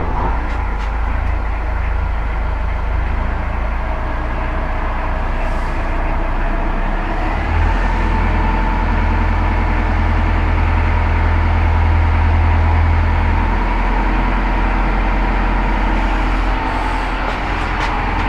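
A stationary engine on an electric-drive setup rises to a steady high idle near 1200 RPM, a loud continuous low drone with a constant throbbing rumble throughout and no voices.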